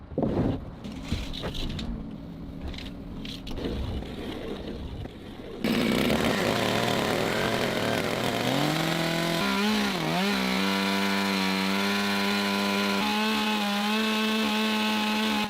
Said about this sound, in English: They are cutting slowly along the entire line with a chainsaw, so the edge of the wood stays clean and symmetrical.